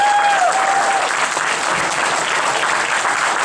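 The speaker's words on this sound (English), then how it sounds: "So once again, can we give them a round of applause?" Loud, sustained applause from a convention panel audience for the AV crew, a dense steady wash of many hands clapping at once with no break.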